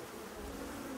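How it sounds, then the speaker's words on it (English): Bees in the video game Icarus, a continuous close insect buzz at moderate level, with no talking. "why so many bees, Mister?"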